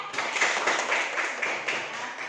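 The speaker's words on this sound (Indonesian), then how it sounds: "mari kita berikan tepuk tangan dulu temannya ya" Classroom audience clapping for a student group about to present, a steady patter of many hands filling a short burst at moderate loudness with no talk over it.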